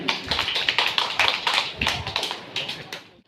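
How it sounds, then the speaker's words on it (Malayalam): A small gathering at a home for elders claps for a prize winner, with distinct, uneven hand claps from a few people that gradually thin out and stop. "നല്ല കൈയടി"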